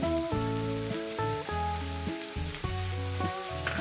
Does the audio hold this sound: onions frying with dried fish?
yes